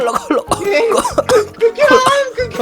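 A voice imitates a string of sick, cold-ridden coughs in a Minecraft monster-school roleplay, several short rough bursts in quick succession, close and loud, mixed with animated talking.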